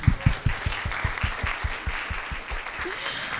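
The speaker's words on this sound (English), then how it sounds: "could we do one more big round of applause for our special guests who came from very far" A round of audience applause for special guests at a university diversity forum, with a few close, sharp claps in a steady rhythm over a denser wash of clapping that fades out.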